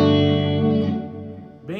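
An electric guitar played through a Mooer GE300 multi-effects unit on a delay preset rings out as a sustained chord whose tone lingers and slowly fades, with a fresh note struck near the end.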